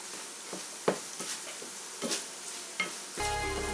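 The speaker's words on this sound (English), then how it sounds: "So as I stir everything up here" Moroccan chicken wings are stirred in a sizzling pan, with a steady fry hiss broken by several scraping, clinking utensil strokes, the sizzle swelling brighter near the end.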